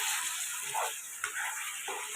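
Pepper chicken sizzles steadily in a pan as it is stirred and dry-fried, a continuous close hiss with a few soft scraping movements and no talking.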